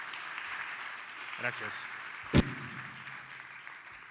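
Light applause from a small live podcast audience as a guest is welcomed, a soft bed of clapping with a short spoken thanks and a sharp knock partway through.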